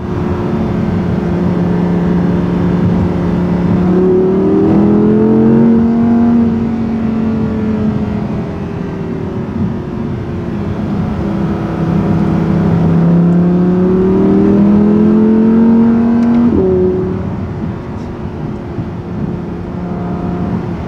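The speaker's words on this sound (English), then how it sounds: "Saying that the R8 is pretty powerful at 532 horsepower, and boy does it sound good." A 2018 Audi R8 V10 RWS, the rear-drive 532-horsepower model, revs while driving, its engine note climbing through gears in two rising sweeps with a shift between, loud and close throughout.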